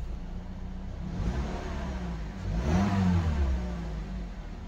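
A 2012 Mazda CX-7 engine runs after a fuel pump replacement and a diesel-contaminated tank was pumped out. It holds a steady mid-pitched hum and swells in a brief rev near the middle, with no talk.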